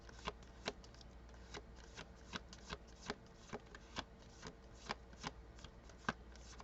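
Tarot cards shuffled by hand in a steady run of soft riffling slaps and flutters, close and fairly quiet, with no voices.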